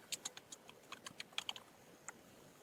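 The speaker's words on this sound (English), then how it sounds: "I'm going to type in my name" A name is typed on a computer keyboard: roughly fifteen quiet, crisp key clicks in uneven quick bursts with short pauses, close and alone against a faint background hiss.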